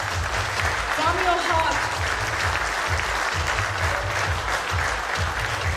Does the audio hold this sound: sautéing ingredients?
no